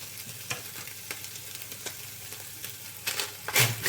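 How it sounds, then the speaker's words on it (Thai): Pork and garlic stir-fry in a hot pan with a steady sizzle, broken by sharp spatula scrapes and clacks at irregular intervals and a louder burst of stirring near the end. "ผัดคู่ไปกับกระเทียมเลยนะครับหมูเราจะได้หอมขึ้น"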